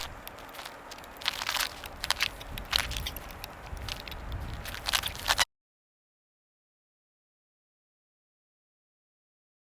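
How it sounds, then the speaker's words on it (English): Propellers being pushed down and twisted to lock onto the motors of a Typhoon H drone: several close crunchy clicks and plastic handling noises for about five seconds, then silence. "all you do is you put the prop on, push down, and turn, and they lock into place."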